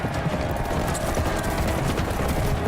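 Horses' hooves pound in a battle scene from Game of Thrones season 1 episode 4, a dense rapid galloping clatter under a busy mix of action noise, with no talking.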